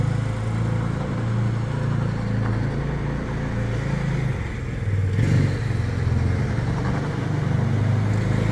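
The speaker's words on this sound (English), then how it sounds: "Those are the tires grabbing on." A Polaris Ranger 570 drives along with its engine droning steadily and the tires grabbing and rumbling on the ground, a continuous close mechanical noise with no talking.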